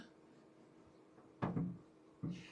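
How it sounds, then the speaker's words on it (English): Resin 3D printer's door being opened indoors: a sharp clunk followed by a short rattle, then a second softer knock a moment later, both close against a quiet room hum. "See if we can open the door and have a sneaky peeky."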